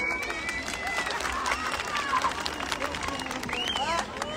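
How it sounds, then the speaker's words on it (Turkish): A crowd at a democracy and unity rally in Serinhisar, Denizli applauds in a continuous rustling patter. It sits at moderate level under loud overlapping voices and cheering. "Alkışlar sizler için gelsin"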